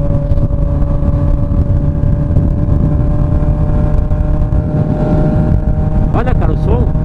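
Honda CB 1000R motorcycle exhaust idling close by, a loud continuous low rumble with steady harmonic drone, with a voice talking over it near the end.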